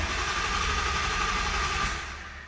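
Starter cranking on a 1000hp ESS G3x Mustang during a compression test, throttle floored, gives a loud, steady whirring churn with a low pulsing throb for about two seconds, then quickly fades as it stops.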